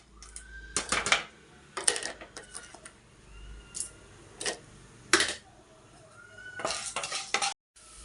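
Chana dal and urad dal dropped into hot oil in a pan, with scattered clinks and scrapes of a utensil against the pan in short bursts, close up and moderately loud, no talking.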